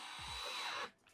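A power drill bores a hole near the edge of a plastic piece, a steady high whirring whine lasting under a second, then cutting off abruptly.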